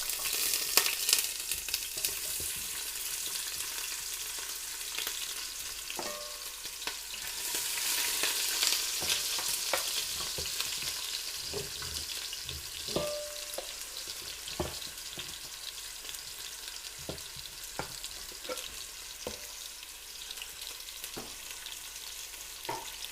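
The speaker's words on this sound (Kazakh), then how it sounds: "Жақсылап қуырып аламыз." Onion and carrot frying in oil in a pot give a soft, steady sizzle with a hissing wash, punctuated by scattered spatters and the occasional scrape of stirring, fairly quiet and close.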